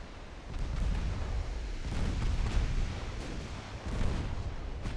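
The French battleships Patrie and Bouvet fire their guns in a naval battle off Gibraltar in Ultimate Admiral Dreadnoughts, heard as a continuous rumbling barrage of deep booms and bursts.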